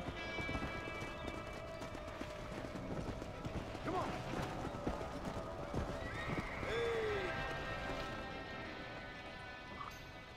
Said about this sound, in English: Good horse. Good horse.